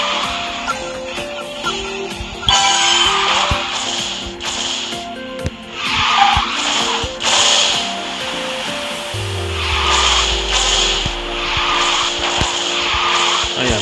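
Cars drift and skid in the racing game Garena Speed Drifters, with repeated tire squeals and screeches over a droning engine, plus a falling swoosh near the end.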